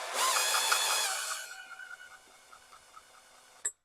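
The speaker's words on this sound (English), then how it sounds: "when I turn it over with the drill gun" A power drill whirs loudly for about a second and a half turning over a Dolmar PS-460 chainsaw engine, then winds down with faint ticking as it spins, ending in a short click.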